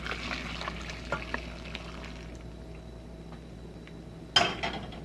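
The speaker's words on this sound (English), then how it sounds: "We'll just pour it directly onto the pickles." Boiling brine poured over sliced homemade pickles, a faint soft liquid trickle and splash, ending in a sharp clink near the close.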